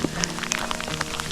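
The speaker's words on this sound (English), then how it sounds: "now I'm in this hailstorm" Small hailstones fall during a mountain hike in the Great Smoky Mountains, scattered sharp ticks and pattering hits landing irregularly on nearby surfaces against a soft rushing background, with no talking.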